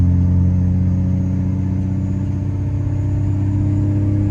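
A second-gen truck with a swapped 6.7 Cummins diesel and GT42 turbo drones steadily while towing 15,000 lbs uphill, its low engine note loud and constant throughout with no talk.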